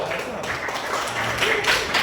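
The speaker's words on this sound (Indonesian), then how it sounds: "kita beri tepuk tangan untuk Zahwa." A classroom of students gives a short round of applause for a classmate, scattered clapping under a busy room with voices mixed in.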